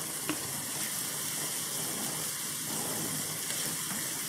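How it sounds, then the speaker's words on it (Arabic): Peppers fry with onions in a pan, a steady, fairly faint sizzle that runs throughout with a few light stirring clicks and no talking. "اضيف الفلفل كده بتاعي علشان ايه يتشوك مع البصل."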